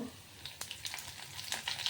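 Tempering spices (mustard seeds, cumin, red chilli, curry leaves) crackle and sizzle in hot oil, with sharp pops and spits scattered over a soft, steady frying hiss.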